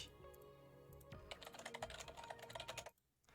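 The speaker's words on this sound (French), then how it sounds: "Cette machine à écrire n'a pas cessé de travailler." A typewriter clatters in quick, irregular bursts of keystrokes inside the video game Honkai Impact 3rd, faint and steady, then cuts to near silence at the end.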